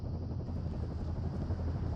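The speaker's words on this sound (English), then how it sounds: "There's the helicopter." A helicopter in Firewatch thrums with a steady low rotor chop, a continuous droning rumble holding at an even level with no voices.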